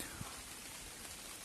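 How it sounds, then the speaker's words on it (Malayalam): Light rain falls at a hill campsite as a faint, even hiss of patter with no voices. "മഴ ചെറിയ രീതിയിൽ തുടങ്ങിയിട്ടുണ്ട്"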